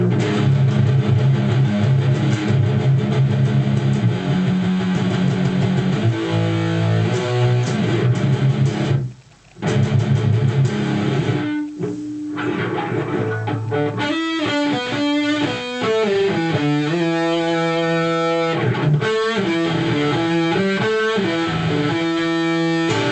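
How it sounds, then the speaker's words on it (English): Seven-string electric guitar tuned down to B, played through heavy distortion: chugging low riffs with brief pauses, then ringing higher melodic lines, loud and alone with no talk. "The 7-string in B."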